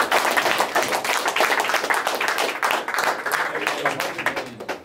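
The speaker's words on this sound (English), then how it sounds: "I got to clap for that" Dense, rapid hand clapping from a few people in a studio talk show, continuing steadily for several seconds at close range with voices faintly mixed in.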